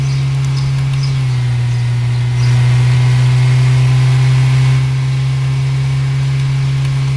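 A car accelerates on a highway, its steady mid-pitched engine drone rising and holding louder through the middle before easing back, with no voices.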